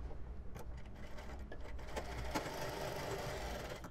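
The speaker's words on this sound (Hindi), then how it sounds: "अब जो दूसरी सिलाई लगाएंगे वो इसके ऊपर इसको इस तरीके से चढ़ाते हुए और फिर से सिलाई लगाएंगे उसी तरीके से।" A sewing machine stitches a kurti shoulder seam, a fast steady mechanical whir with rapid needle clatter, close and continuous with brief pauses and no speech.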